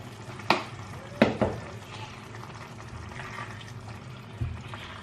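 Eggplant filling seasoned with thyme being stirred in a pan, giving a few sharp scrapes and clinks of a utensil against the pan over a low steady background of cooking noise.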